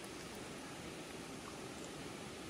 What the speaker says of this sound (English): if you hear the water rushing, we are right along the river right here